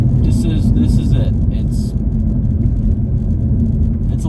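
Inside a moving Lexus car, a deep steady engine and road rumble fills the cabin, with a muffled voice over it.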